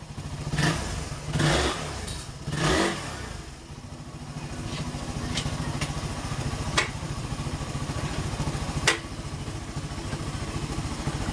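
Carbureted Suzuki Raider 150 motorcycle with about 40,000 km on it, running close by at a steady, even idle with a regular pulsing beat, preceded by a few short throttle blips.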